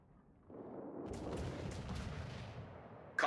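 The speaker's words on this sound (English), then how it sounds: "Concentrate fire on the enemy warship." Naval gunfire from warships in the World of Warships video game, a single deep rumbling boom that swells after a quiet start and sustains for about two seconds before a sharp final crack.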